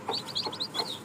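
Baby chickens peep in several quick high-pitched chirps, close by and alone, over about a second.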